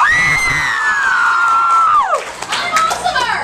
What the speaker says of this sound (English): No, cheer because I am awesome.